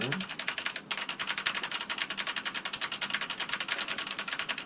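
Rapid, steady typing on a HEXGEARS K840 mechanical keyboard with white switches, close and continuous, with dense clicky keystrokes in an even rhythm throughout.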